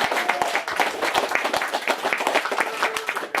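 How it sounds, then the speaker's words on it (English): Audience applause for a comedian at a fringe comedy show, a brisk patter of many hands clapping steadily at moderate loudness with no talk over it. "give another round of applause to Don Biswalls."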